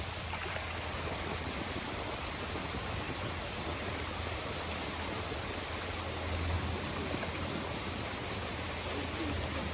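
Water at an Exmoor fly fishery churns with feeding fish, giving a steady, soft rushing and splashing wash that stays even throughout and sounds fairly distant and low.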